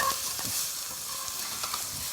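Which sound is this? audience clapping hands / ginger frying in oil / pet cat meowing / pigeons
ginger frying in oil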